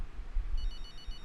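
A phone rings in the racing video game F1 23 Braking Point, with short repeated electronic trills over a low background hum, faint and brief.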